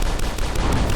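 Gunfire in the video game Dusk, a dense, loud one-second barrage of rapid shots blending into a continuous roar.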